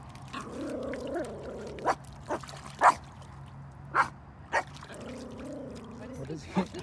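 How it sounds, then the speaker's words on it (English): A dog barks at water splashes outdoors, several sharp separate barks spaced irregularly over a background of moving water and people talking nearby. "he's barking at the splashes"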